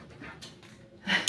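A dog being held on a table for a bath gives faint, brief whimpers and soft yips, ending in a slightly louder whine, with a little quiet human voice nearby.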